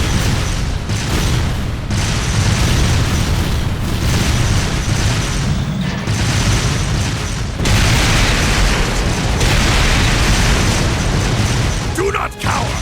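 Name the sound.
artillery barrage explosions in the video game Trails of Cold Steel 2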